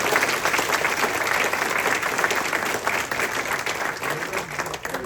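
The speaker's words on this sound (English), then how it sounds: "Give them a big round of applause." An audience at a Kinston hall of fame banquet applauds a youth baseball team that were World Series runners-up, with dense, steady clapping that fills the room for the full stretch and holds loud throughout.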